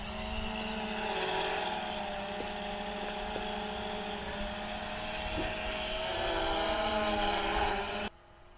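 A Ruko U11 drone flying in a circle, giving a steady, loud whirring propeller drone with a slowly shifting pitch that cuts off abruptly near the end.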